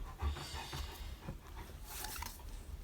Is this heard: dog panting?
yes